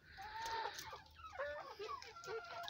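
Free-range hens clucking nearby on a small farm, a run of short rising and falling calls at moderate volume, with faint background noise.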